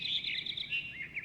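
Bird song sound effect in a told story: bright, rapid chirping and trilling tweets, continuous and close, with no voice over it.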